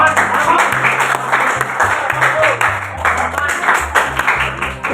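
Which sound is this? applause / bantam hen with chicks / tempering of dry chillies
applause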